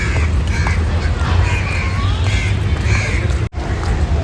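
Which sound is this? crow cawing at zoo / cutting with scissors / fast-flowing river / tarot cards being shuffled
crow cawing at zoo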